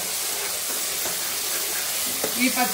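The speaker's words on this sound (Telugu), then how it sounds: "ఉల్లిపాయలు ఇలా చక్కగా బ్రౌన్ కలర్లో వేగేదాకా ఎర్రగా వేయించుకోవాలి." Sliced onions frying in oil in a pan until browned, a soft steady sizzle and hiss with a few light scrapes of stirring, heard fairly close and moderately quiet.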